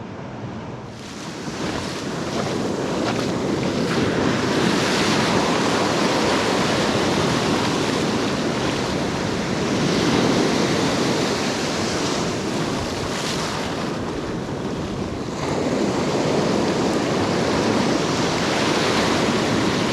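Ocean waves breaking on a winter fishing beach, a continuous loud roar of surf with swelling crashes and wind noise on the microphone, no talk.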